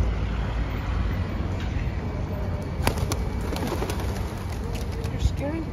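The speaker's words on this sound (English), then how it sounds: "You're scaring the pigeons." Pigeons coo atop the Derry city walls, soft repeated calls mixed into steady outdoor wind and traffic noise, with a few brief sharper sounds and faint voices in the background.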